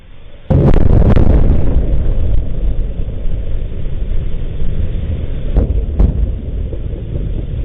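Powerful explosions at a struck Russian oil refinery, a sudden heavy blast followed by a sustained deep rumble, with further sharp bursts a few seconds later.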